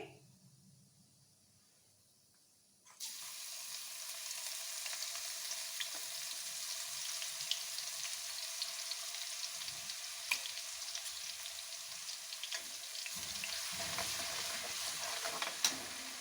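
Cauliflower and carrots fry in a pan for a Punjabi-style sweet and sour pickle, a steady close sizzle that starts abruptly after a quiet moment and carries on with occasional stirring scrapes.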